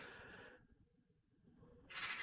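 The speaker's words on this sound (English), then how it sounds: "There's a loud bird outside as well." A loud bird calls outside an open window, a hooting cry that fades out, a brief near-silence, then another sharp, bright call toward the end.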